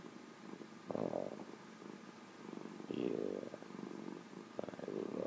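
Millie the cat purring close by in steady low rumbling waves, swelling and easing in a slow rhythm with no talk.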